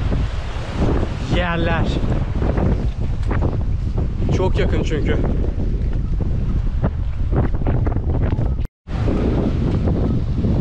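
Waves wash onto a beach on the Lycian Way coast under heavy, steady wind buffeting the microphone, with someone speaking Turkish nearby over the roar.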